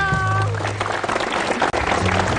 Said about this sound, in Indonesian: Kita tepuk tangan dulu dong.